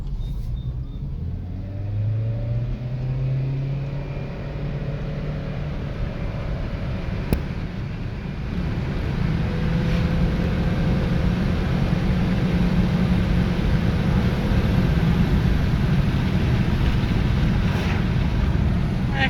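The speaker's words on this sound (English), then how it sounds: "So here is a clip of the acceleration." A 2008 Honda Civic Hybrid accelerating, heard from inside as a low engine drone that rises in pitch and grows louder over about twenty seconds, with road rumble and wind noise building underneath.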